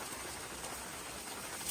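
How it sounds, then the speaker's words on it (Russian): Rain falls steadily during a backyard barbecue with steak on the grill and an umbrella overhead, a constant soft patter and hiss without talk. "А дождик так идет."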